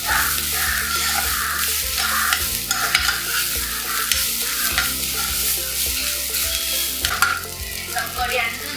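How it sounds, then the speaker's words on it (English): Lemon rice with lime juice sprinkled over it being given a quick stir in a frying pan, with a steady close sizzle and scraping under a dense, busy sound with no talk. "So we're sprinkling some lime juice on it. Okay, just about 3/4 of a lime juice. Give it one quick stir."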